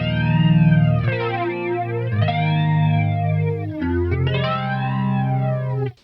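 Electric guitar with a flanger effect in the studio, sustained clean-toned chords sweeping with a swirling, jet-like comb-filtered shimmer, several chord changes played alone, loud and close.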